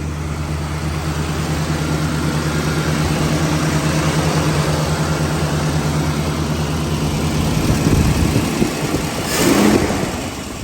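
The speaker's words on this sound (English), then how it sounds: "Nice, clean, burning exhaust. Car has a nice tone to it." A 1968 Shelby GT350 engine idles steadily with a low rumble through its factory exhaust, close by, briefly swelling near the end.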